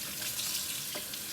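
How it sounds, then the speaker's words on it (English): Tap water runs steadily over freshly harvested whole dandelions, rinsing mud from the roots and leaves, a close, continuous hiss and splash with no talking. "I am just going to run them under the water and get as much of that nasty mud off that I can"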